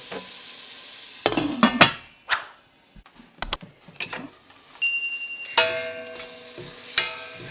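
Lid set onto a cooking pot of sauteing vegetables for shrimp creole, sharp metallic clanks and rattles with a ringing tone, several close knocks in quick succession over a faint sizzle, no voices.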